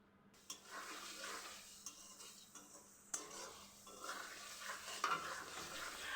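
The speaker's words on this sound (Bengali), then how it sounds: "আরও কিছুক্ষণ নাড়াচাড়া করে আমি মশলাটাকে আরও ভালোভাবে কষিয়ে নিচ্ছি।" Spice masala being stirred and fried with beef in a pan, a soft continuous sizzle with scraping strokes of a spoon and occasional light clinks against the metal, close and fairly quiet with no talking.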